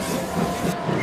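A train rumbles along the rails with a steady roar and hiss, faint clicking from the wheels running under the continuous noise.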